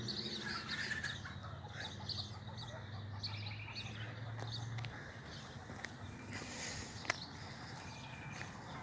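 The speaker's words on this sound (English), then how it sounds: "we got someone in non-biosecurity trying to catch a rooster." Rooster clucking and chickens calling at a backyard fowl yard, several faint, scattered clucks over a low background hum, with other birds chirping.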